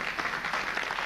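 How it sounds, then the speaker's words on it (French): Audience applause at a ceremony awarding the Chevalier des Arts et des Lettres, a brief, steady wash of many hands clapping, fairly faint and even throughout. "il faut l'applaudir aussi"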